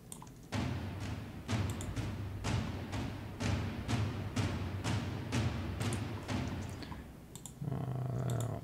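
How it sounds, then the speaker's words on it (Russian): A basic drum beat from the Addictive Drums plugin plays as a steady pattern of punchy kick and snare hits with bright cymbal strikes, evenly paced, alone without talk. "Элементарный бит из Addictive Drums."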